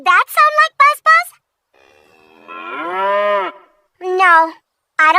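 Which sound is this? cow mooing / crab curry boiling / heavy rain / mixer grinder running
cow mooing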